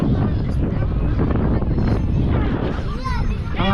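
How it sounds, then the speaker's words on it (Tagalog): Wind gusts at the Calabasa river in Gabaldon, Nueva Ecija, producing loud, steady rumbling buffeting across the microphone, mixed with voices talking in the background throughout. "Ang hangin dito guys, mahangin."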